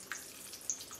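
A thin stream of tap water splashes over jalapeño peppers being rinsed to clear their seeds, a brief soft hiss with a couple of tiny droplet clicks.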